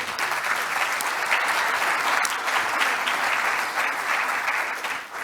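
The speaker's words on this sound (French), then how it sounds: "Je vous demanderai de les applaudir, s'il vous plaît, avant de prendre les questions" Attendees at a French industrial cybersecurity conference session applaud the speakers before questions, a steady, fairly loud round of clapping that holds evenly for about five seconds and then fades at the end.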